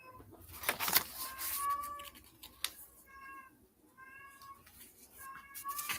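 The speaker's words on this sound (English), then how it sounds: "Is that a cat?" A cat meows repeatedly in drawn-out, wavering cries, several separate calls spaced over a few seconds, heard alone at moderate distance with faint background noise and a few sharp knocks.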